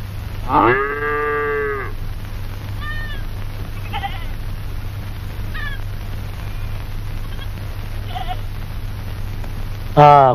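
A cow in a cattle shed gives one loud, drawn-out moo near the start of a Malayalam comedy film scene. Fainter short calls follow over a steady low hum, and another cry begins at the end.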